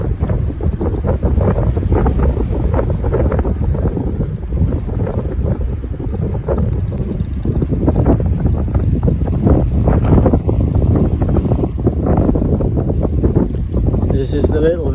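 Strong, continuous wind buffeting a microphone during a fast downhill road-bike descent near Llucmajor, Mallorca, loud and steady throughout with a rushing, rumbling roar and brief quieter moment near the end.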